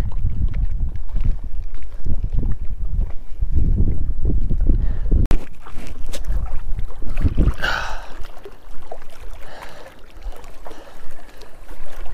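Strong wind at Cottonwood Lakes, a mountain lake in the John Muir Wilderness, roaring and buffeting close against the microphone in continuous gusts, with a brief sharp knock midway.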